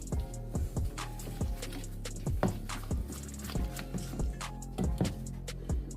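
Water is worked into a thick potato batter, producing close, rhythmic wet squelches and soft slaps as the mix is stirred by hand, with no talking.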